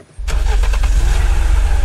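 A fire truck engine in the video game Unturned cranks and catches abruptly, then settles into a loud, rumbling idle close up, with no talk.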